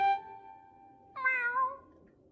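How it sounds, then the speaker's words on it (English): Two drawn-out cartoon cat meows, the second rising and more insistent, with a quiet pause between them and no other sound. "Meow."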